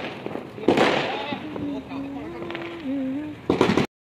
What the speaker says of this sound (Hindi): आवाज़ें आ रही थी पटाखों की।